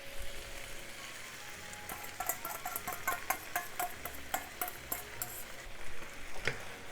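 Pork and onion fry with seasonings in a pan, giving a steady sizzle broken by clinks and scrapes of stirring, up close and with no voices.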